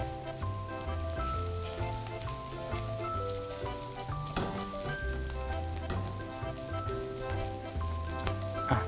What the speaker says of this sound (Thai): ผัดผักโขมนะครับ เพิ่มไฟหน่อยก็ได้ ให้ผักโขมนะครับ โดนกระเทียมให้ทั่วเลย